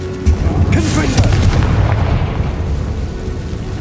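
A Confringo blasting spell in the video game Hogwarts Legacy erupts in a loud, booming explosion with a rumbling, crackling tail that lingers for a few seconds.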